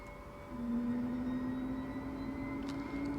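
The turbine engine of a Lama helicopter spools up on start in MSFS 2024, a rising whine that steadily climbs in pitch over a low hum, fairly faint and steady, with no talk.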